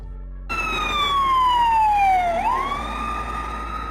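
A Moldovan ambulance siren, on a Mercedes-Benz Sprinter, Volkswagen Crafter or Ford Transit type van, starts abruptly and sweeps in one long falling tone that then rises again. It sounds loud and close, with no talk over it.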